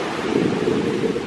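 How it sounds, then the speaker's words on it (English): Atlantic Ocean waves washing onto the shore make a steady, close rush of surf with wind buffeting the microphone throughout. "I'm going to document this, that I'm going to touch the Atlantic Ocean"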